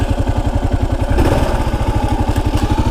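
A Kawasaki KLR 650 single-cylinder motorcycle riding up toward a rural church, its loud close engine thumping in a steady rapid pulse that swells briefly midway.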